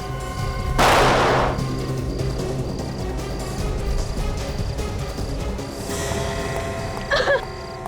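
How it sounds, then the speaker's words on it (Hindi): A single sharp gunshot cracks out loudly in a tense scene of the Hindi crime drama series CID, followed by a lingering ringing tail and later faint scuffling noises, with no speech. "उसने गोली तो चलाई है"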